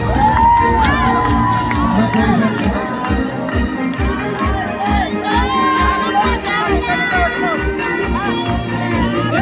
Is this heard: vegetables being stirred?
no